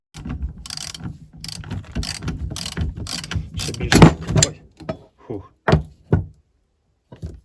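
Wrench turning a nut loose on an Audi A4 B5 shock absorber strut, ratcheting clicks in quick bursts close by, then a few sharp isolated clanks with pauses between.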